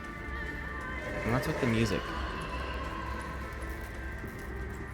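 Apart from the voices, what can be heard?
pig noises in Amnesia: A Machine for Pigs video game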